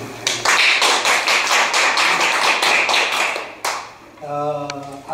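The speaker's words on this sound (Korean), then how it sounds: "다시 한번 박수 한번 좀" A small group at a Korean church education meeting claps in brisk, fairly even rhythm for a few seconds, then the clapping stops and someone speaks close by.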